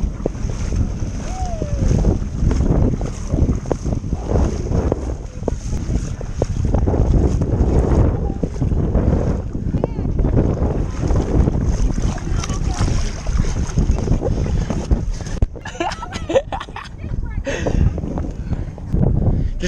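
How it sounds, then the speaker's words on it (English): A small boat being towed moves steadily through water, with a continuous wash and rumble, wind buffeting the microphone, and voices talking now and then over it. "Just chilling in the boat while he's pulling us."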